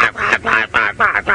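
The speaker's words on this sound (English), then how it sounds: "The Egyptian geese sound like sort of really angry, breaking sanding machines" Egyptian geese call in a quick run of about six harsh, grating honks, loud and close, with short gaps between the rasping bursts.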